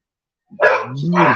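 A hyperactive rescue dog giving a short, loud, close bark that trails into a whine after a moment of silence.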